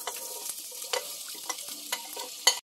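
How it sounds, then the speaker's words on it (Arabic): Sliced onions sauté in butter and olive oil, a close, gentle sizzle broken by scraping stirs and light utensil taps, ending in a sharp clink. "هنشوح البصل مع زيت الزيتون"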